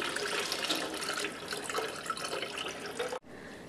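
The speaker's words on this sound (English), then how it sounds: "You're going to take the dye and add it to your bucket very carefully, slowly if possible." Fabric dye poured slowly from a container into a bucket of water, a steady close splashing trickle that runs for about three seconds and then stops abruptly, leaving quiet room tone.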